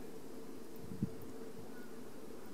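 A low, steady buzz of many bees droning together around hives on a farm in Bosnia, with one brief soft thump partway through.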